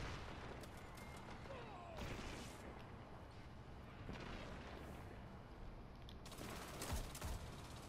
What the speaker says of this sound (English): So he survived 3 shotgun shots.